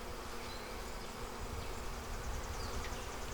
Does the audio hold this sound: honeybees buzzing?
yes